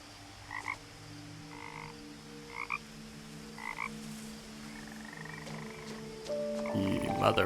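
Frog croaking in the video game What Remains of Edith Finch, a series of short, evenly spaced croaks that sound close, over a quiet ambient game background that swells louder at the end.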